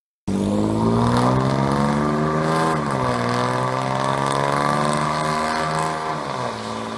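A 2014 Ford Taurus SHO with a Corsa cat-back exhaust and Stainless Works downpipes revs hard, a loud raspy exhaust note that climbs and holds before easing off, with no talking over it.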